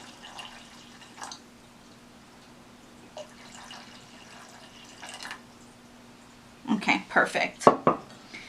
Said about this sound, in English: I have about 2 cups of water. So we're going to go ahead and add that